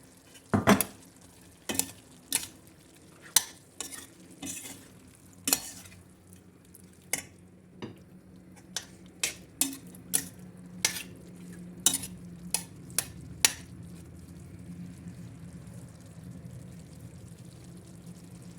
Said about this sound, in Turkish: Etimiz şöyle biraz kavrulsun